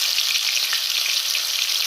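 Snakehead fish frying in a pan, a steady dense sizzle of hot oil throughout, close and even with small crackling pops and no talk.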